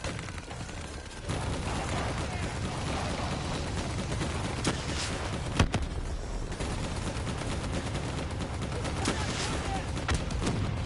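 Gunfire in the Call of Duty Black Ops 3 campaign, shooting down bats: a dense, continuous roar of rapid shots and impacts that stays loud and busy throughout after a slightly quieter opening second.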